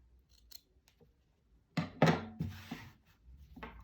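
Scissors trimming crochet yarn close up, a few crisp snips and a short rustling cut after near-silence, faint and quiet throughout.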